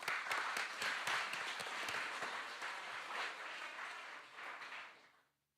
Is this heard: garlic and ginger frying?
no